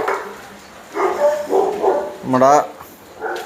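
Dogs at a Siberian Husky and Shih Tzu kennel give a few short barks and a higher yelp in separate bursts, close by, alongside a person speaking.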